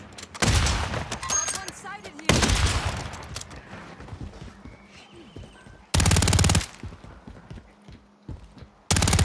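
Bursts of automatic gunfire in a shooter video game, several loud broadband volleys separated by quieter stretches with faint game effects and some background chatter.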